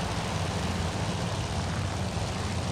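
Dive bomber aircraft under fire in Task Force Admiral, a steady loud droning roar of propeller engines, continuous and close, with no talk.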